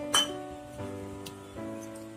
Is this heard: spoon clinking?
yes